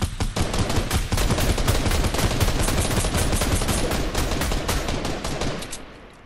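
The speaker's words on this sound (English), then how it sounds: "Somebody else is shooting rockets." Rocket launcher fire and explosions in a Fortnite match, with dense repeated blasts and rapid shots crowding together loudly and continuously throughout, fading slightly at the end.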